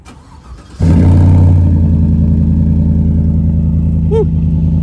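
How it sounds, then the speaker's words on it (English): A GMC Sierra pickup truck engine with a new aftermarket exhaust cranks and fires up loudly, then settles into a deep, rumbling idle with a throaty exhaust tone; no talking. "I went out and got me a new exhaust, put on my Sierra. Man, that thing sound nice."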